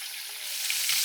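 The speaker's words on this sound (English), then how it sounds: "We got it frying on medium heat." Chicken frying in a pan on medium heat, a steady close hiss and sizzle with no talk.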